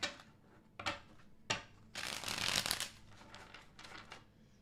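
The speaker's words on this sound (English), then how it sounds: "2 more shuffles for Taurus and their person," Tarot cards shuffled by hand in a series of crisp riffling bursts, a few short flicks followed by a longer, louder shuffle and quieter trailing ones, close and without speech.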